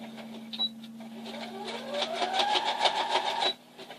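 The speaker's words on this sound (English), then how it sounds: "this is the side that I want to most definitely back stitch on" A sewing machine runs a short burst of back stitching along a skirt seam, its motor whirring and rising in pitch with quick rhythmic needle clicks, close and alone.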